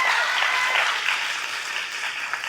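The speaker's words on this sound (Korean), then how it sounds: "박수 한번 주실 수 있을까요?" An audience applauds steadily for a few seconds, a dense, even patter of many hands clapping without any talk over it.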